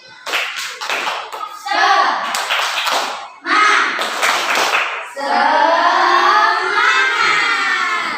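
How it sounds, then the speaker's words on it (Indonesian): In a classroom, pupils clap out the rhythmic tepuk semangat cheer, several quick clap bursts between shouted unison chants, ending in a long sustained group cry, all near and loud. "Tepuk semangat."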